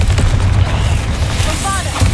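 Confringo blasting spell explosion in a Harry Potter video game: a loud, close, rumbling blast with heavy low boom that sustains for about two seconds, with crackling debris over it.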